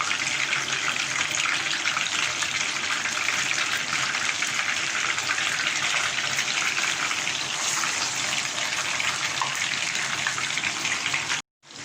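Fish fillets fry steadily in hot oil over a medium flame, a loud, dense sizzle that holds almost unchanged throughout and then cuts off abruptly near the end.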